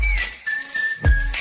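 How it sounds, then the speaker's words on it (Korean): A clear, pitched whistled melody from a song cover, with steady tones gliding slightly downward over a thumping beat. "휘파람"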